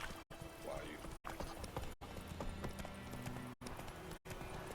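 Horse hooves clip-clop steadily along a road in the video game The Witcher 3, a continuous trotting rhythm with game voices talking over it and several brief silent cuts.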